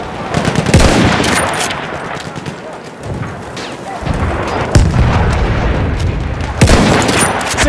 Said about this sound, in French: C'est une mitrailleuse ennemie!